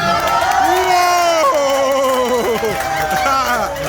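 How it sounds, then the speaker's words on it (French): Audience at a Lakou Santé gathering giving a standing ovation: a loud, dense crowd of cheering, whooping and shouting voices close by, rising and falling without a break for the whole span. "you will accept the standing ovation of Brother Bernstein"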